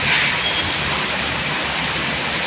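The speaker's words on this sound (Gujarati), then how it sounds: "ગુજરાતમાં ધોધમાર વરસાદ ચાલી રહ્યો છે।" Heavy monsoon rain pouring down in Gujarat, a loud, dense and continuous hiss of downpour hitting surfaces close by, steady throughout with no voices.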